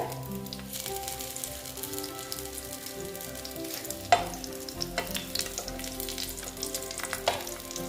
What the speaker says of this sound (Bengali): এটাও মোটামুটি আমার ভাজা হয়ে গেছে